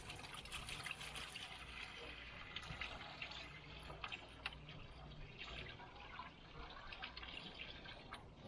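Water is poured into the water pan of a smoker cooking baby back ribs, a faint, steady trickle and splash that runs throughout with no talking.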